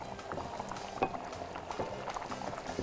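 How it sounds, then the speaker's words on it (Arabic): Onions fry in a pan with a steady, close bubbling sizzle that carries on without a break, and no voice is heard. "البصل بيتحمر جميل كده"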